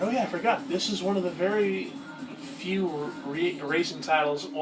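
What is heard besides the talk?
None of the usual background noises is heard.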